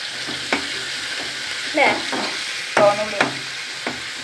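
Curry leaves fry in hot coconut oil with a soft continuous sizzle, broken by sharper crackling bursts and a few spoon taps against the pan.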